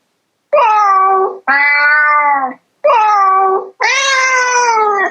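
A Google Nest Mini smart speaker plays a cat-meow sound effect: four long, loud, clear meows in a row, each about a second, separated by short gaps, with no talking.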